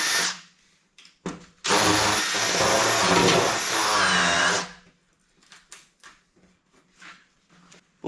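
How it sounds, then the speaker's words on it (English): A power drill bores a 25mm hole through wood in one loud, continuous whine lasting a few seconds, followed by quieter knocks and scraping as the tool is handled. "I'm just going to drill a hole straight through there"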